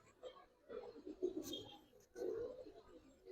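A pair of pigeons, a matched male and female pair, gives soft low coos in two short bursts, faint and close, with a brief sharp click between them and no talking over them.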